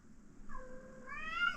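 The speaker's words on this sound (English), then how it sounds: "That's a cat" A cat gives a single drawn-out meow that rises in pitch, close and fairly quiet against a soft background hum.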